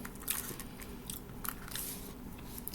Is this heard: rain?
no